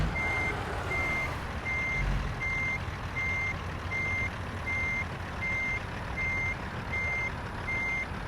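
Truck pulling out and turning, its reversing alarm beeping steadily in an even rhythm of about a dozen beeps over a loud, constant engine rumble, with no talk.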